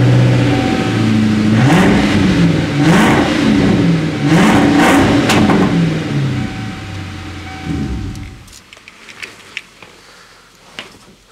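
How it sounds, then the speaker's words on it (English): A muffler-deleted Ford Mustang SN95 Cobra revs hard and loud several times, close by, its raw exhaust rising and falling, then shuts off and leaves only faint clicks and ticks. "we need to start it up without the mufflers and see how it sounds"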